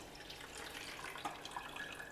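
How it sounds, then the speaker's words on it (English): Water draining from soaked millet and dal, a quiet continuous trickling and splashing with faint drips, heard alone and close. "Drain out the water."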